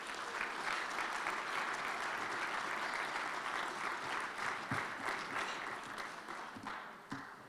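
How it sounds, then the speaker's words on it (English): A graduation audience gives sustained, dense applause that holds steady across the room, with a few sharper individual claps near the end as it begins to thin. "let's give them all a big round of applause"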